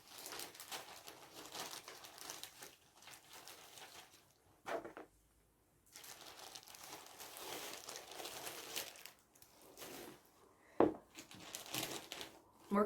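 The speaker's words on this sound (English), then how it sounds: "So sorry for the crinkling." Close, rustling crinkles come in repeated bursts with short quiet gaps, like plastic or cellophane being handled at a craft table.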